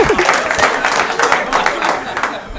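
A live audience bursts into loud, dense applause, many hands clapping together in a continuous crackling wash, with some voices mixed in.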